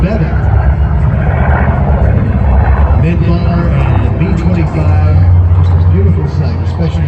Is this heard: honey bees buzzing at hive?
no